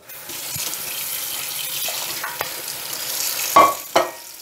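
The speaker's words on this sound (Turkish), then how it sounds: "Bakın fasulyemizi yine döküyoruz. Ve tekrar yıkıyoruz" Dried beans being rinsed under a running kitchen tap in a sink, a steady wash of flowing water with a couple of sharper splashes or clunks near the end, no talking.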